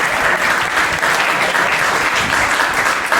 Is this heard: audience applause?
yes